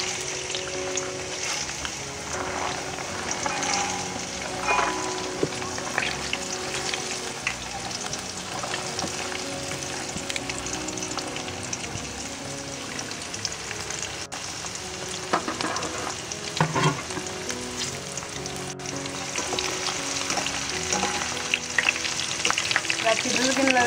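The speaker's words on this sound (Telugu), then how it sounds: "ఆరబెట్టిన శనగపప్పు దీంట్లో వేసుకుందాము" Soaked, dried chana dal deep frying in hot oil inside a perforated basket makes a continuous loud, close sizzle and bubbling with occasional stirring clinks, steady for the whole stretch without any talking.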